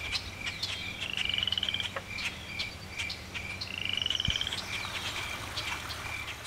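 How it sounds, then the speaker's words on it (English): Frogs croak repeatedly at a forest pond in Quebec, trilling calls close by in a steady rhythm over a faint background hum. "abundance of frogs and their eggs in various stages of growth"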